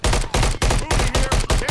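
Loud, close gunfire in the video game Call of Duty: about six heavy shots in a steady, evenly spaced rhythm, each one booming and ringing briefly.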